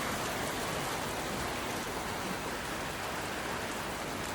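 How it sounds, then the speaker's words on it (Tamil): Heavy rain falls steadily in the UAE as a dense, even hiss that holds without pause, with no voices. "இன்றைக்கி வந்து மழை சூப்பராக இருந்துச்சு பார்க்குறதுக்கே"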